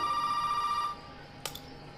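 An in-game telephone in Resident Evil 7 Biohazard rings with a sustained electronic tone that stops partway through, followed by a brief sharp click, heard alone and fairly quiet.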